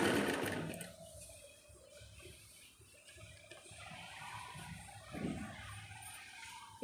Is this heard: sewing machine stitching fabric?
yes